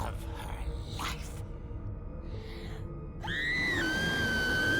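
A woman's scream rings out in the video game What Remains of Edith Finch, a loud, rising, sustained wail that swells over a rumbling low background and holds strongly to the end.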